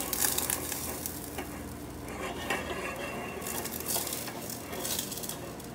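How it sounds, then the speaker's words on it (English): Butter melting in a pan for cornbread, sizzling softly and steadily up close, with a few light clinks of utensils against cookware. "Just going to check on our butter here. It's starting to melt, starting to sizzle."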